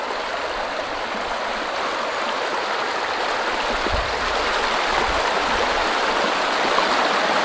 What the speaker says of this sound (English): the river is deep and fast flowing in the middle